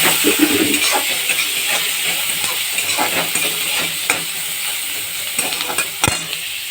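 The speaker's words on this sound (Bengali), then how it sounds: "এটা আমি এবার লাল লাল করে একটু ভেজে নিই" Onion sizzles as it fries in a pan for a fish curry with sesame, with a steady close hiss and frequent light stirring scrapes and clinks throughout, no talk.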